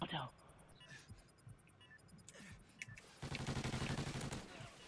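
Gunfire in a video game match: scattered single shots followed by a dense, sustained burst of rapid automatic fire, moderately loud with brief distant cracks and a voice talking over parts of it.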